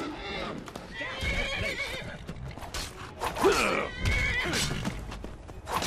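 A horse whinnies in The Elder Scrolls V: Skyrim amid steady background game noise, with hoof clatter and rustling mixed in; the neigh stands out clearly midway.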